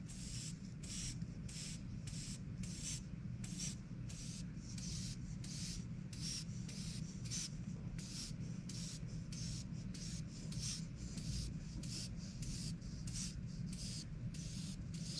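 Airbrush spraying paint onto rocks in quick repeated bursts, a steady airy hiss pulsing on and off about twice a second over a constant low compressor hum, close and alone.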